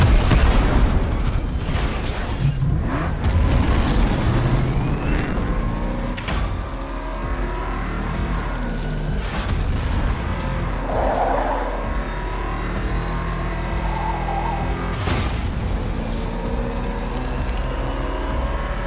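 The Batmobile in a Batman video game speeds along with a continuous loud engine roar, punctuated by whooshes and heavy booms as it races.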